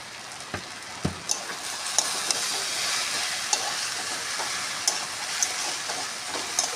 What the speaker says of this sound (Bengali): আলু পেঁয়াজ দিয়ে শাক ভাজা রেডি।